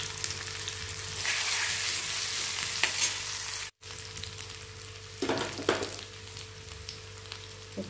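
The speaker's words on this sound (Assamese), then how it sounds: "এতিয়া তেল গৰম হৈ গ'ল, মই পিঁয়াজখিনি দিছোঁ" Onions frying in hot oil for a lentil dal, a steady even sizzle with a few louder bursts of hiss, one brief dropout partway through.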